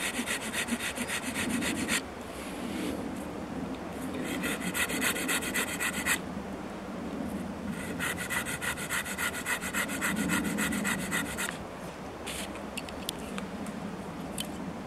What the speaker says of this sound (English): So I'm just going to cut either side of this stick, then we can cut into it and start removing the wood.